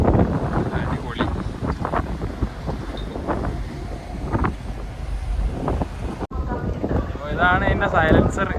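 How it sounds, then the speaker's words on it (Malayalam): Exhaust of a large passenger ship's engine, heard outdoors as a heavy, continuous low rumble under strong wind buffeting the microphone, loud and close throughout. "ഇതാണ് ഇതിൻ്റെ സൈലൻസർ ഷിപ്പിൻ്റെ"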